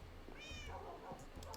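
A single Minecraft cat meows once in the game, a short rising-falling cry heard fairly close over a steady low background hum.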